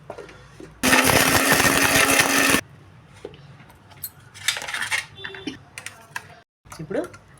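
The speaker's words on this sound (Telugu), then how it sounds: "ఇప్పుడు ముందు వీటి వరకు పొడి చేసుకుందాం" An electric kitchen mixer grinds salt, garlic and spices into powder in one loud, harsh burst of about two seconds, followed by quieter clinks and handling noises and someone talking.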